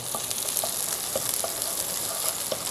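Diced onion sizzles in a hot pan with garlic for a beef hor fun stir-fry, a steady close crackle with occasional sharper pops and stirring scrapes.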